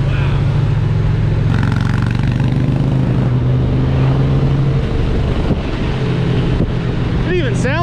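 An Indian Challenger motorcycle pulls away hard on a test ride, its engine note rising through the revs, with steady wind buffeting the microphone and a voice talking over it.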